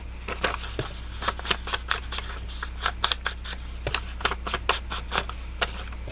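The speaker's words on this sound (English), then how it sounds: "I love distressing paper" Paper is being distressed by hand for card making, a rapid series of dry rasping scrapes and crinkles repeating in uneven strokes, close and fairly loud.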